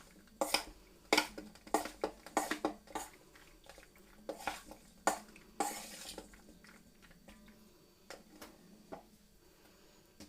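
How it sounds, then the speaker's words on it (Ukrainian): A spoon stirs sweet cherries with starch in a bowl for a cherry pie, making close, irregular clinks and soft scrapes at a quiet level. "До черешень всипаємо крохмаль. Перемішуємо."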